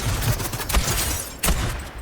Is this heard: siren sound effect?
no